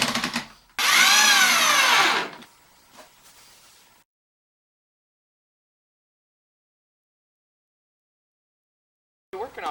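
A loud mechanical whirring burst lasting a couple of seconds, a power drill driving a screw into wood during a shower renovation, followed by a few faint knocks and then quiet.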